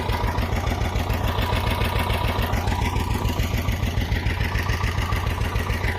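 A T-25A tractor's engine runs steadily and loudly up close while ploughing buckwheat and wheat fields with a BOMET 2.25 plough, a constant low throbbing drone with no pauses.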